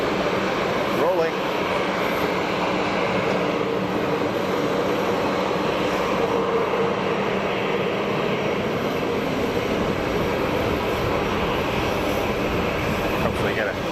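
Aging airliner's engines roaring at full power during a takeoff roll at Geneva Airport, a loud broad steady wash of noise held for the whole stretch with no pauses.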